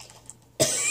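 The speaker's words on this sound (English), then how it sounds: "Sorry if I'm coughing or sniffling during this video" A single abrupt cough bursts out after a quiet stretch, loud and close, its harsh noisy tail trailing off.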